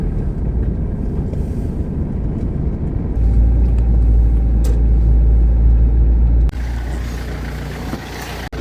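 A car drives along with a steady low engine and road rumble, growing heavier midway before a sudden shift to a lighter hiss near the end; no voices.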